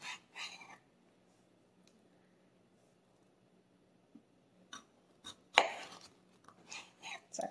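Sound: chopping potatoes with a knife

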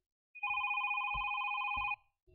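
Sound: telephone ringing

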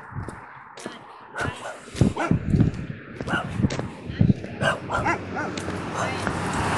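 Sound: dogs barking in the background

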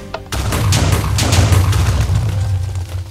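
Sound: explosions in the video game Minecraft

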